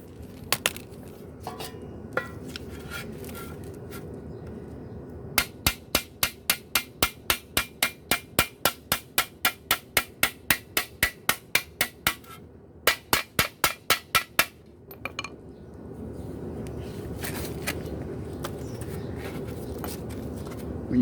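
Hammer beating dents out of the sheet metal of an old mini bike being restored, a close run of about twenty sharp, evenly spaced metallic blows in the middle, with quieter taps and shop noise before and after.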